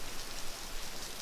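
Rain falls in a handheld Playdate video game as a faint, steady hiss of dense patter with no breaks and no voices.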